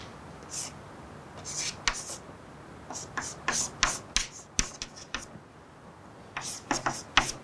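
Chalk or marker scratching across a board during a lecture on randomized algorithms, in short bursts of strokes with pauses, fairly faint and close, with no talk.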